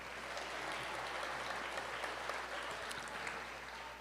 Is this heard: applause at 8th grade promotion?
yes